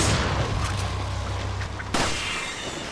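A shotgun fired in the video game Resident Evil 4, a loud booming blast with a long rumbling tail, followed by a second sharp report near the end.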